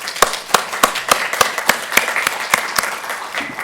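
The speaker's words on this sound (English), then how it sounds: "So please join me in giving them a round of applause." Audience members at a weekly project meeting clap for new committee members, a sparse round of loud individual claps in a steady rhythm, no voices over it.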